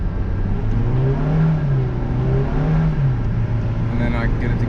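A Honda Civic del Sol engine rises and falls in pitch as it is revved after a downshift, loud and steady from inside the car, with someone talking over it.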